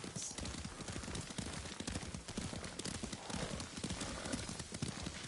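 Steady, rapid hoofbeats of a galloping horse in the video game Ghost of Tsushima, continuous and fairly close, with faint background noise and no clear speech.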